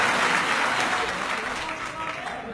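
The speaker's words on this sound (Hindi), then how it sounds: "जोरदार तालियों से उनका स्वागत किया जाए" Political gathering audience gives a strong round of applause, dense continuous clapping from a large crowd that slowly tapers off.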